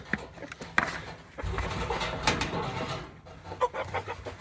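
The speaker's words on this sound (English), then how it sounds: "They're all the roosters." Roosters kept in a cold-weather coop under heat lamps cluck and call in short, uneven bursts, mixed with scattered nearby rustling and no clear speech.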